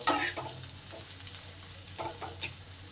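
Chopped onions frying toward red in a pan, a steady close sizzle with repeated scraping stirs and a few light utensil knocks.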